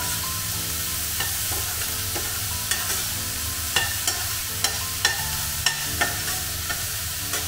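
Onions and bitter gourd sauté in a pan with a steady close sizzle, while a spatula stirs and scrapes at regular intervals.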